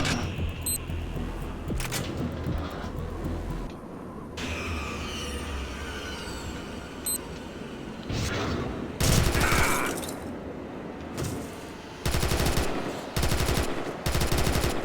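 Anti-aircraft gunfire in the TimeSplitters 2 Redux video game, heard as loud bursts of rapid automatic fire that come in several clusters, mixed with game noise and other shots.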